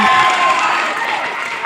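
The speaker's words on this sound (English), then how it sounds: "And the room is cheering." A room of spectators at an epee fencing match cheers and applauds after a tied bout, a broad, close crowd roar that holds steady and slowly fades.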